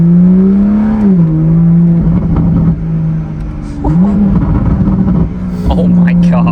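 Stock 2023 Toyota Supra, rebuilt after a wreck, its engine burbling loudly up close with a rising and falling tone as the revs change, crackly pops breaking through, while people talk over it.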